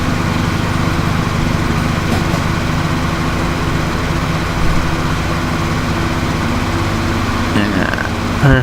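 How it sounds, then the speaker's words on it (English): A lawn mower running outdoors, heard through an open window as a continuous steady engine drone with a low rumble, moderately loud and unbroken for the whole stretch. "I got the window open and so hearing a lawnmower. That's what that is."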